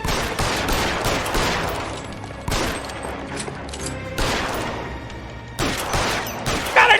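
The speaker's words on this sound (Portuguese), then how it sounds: "tomou um tiro na cabeça" Gunfire from the video game L.A. Noire comes in dense rapid bursts of crackling shots, several volleys separated by brief gaps, loud and sharp with echoing tails.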